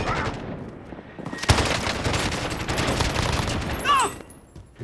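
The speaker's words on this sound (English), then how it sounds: "Oh, he's getting shot by somebody else." Bursts of automatic gunfire in Call of Duty Warzone on Rebirth Island, a dense rattling fusillade filling most of the few seconds, with a player voice talking over the shots.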